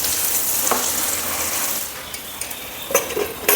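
Paneer, capsicum and tomato frying in refined oil for kadai paneer, a close, steady hiss with spatula clinks and scrapes against the pan near the end.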